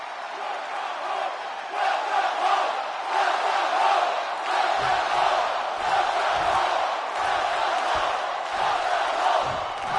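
A packed arena crowd in the WWE 2K24 wrestling video game roars and cheers in a sustained, loud wave of voices and shouts that rises and holds for the whole stretch.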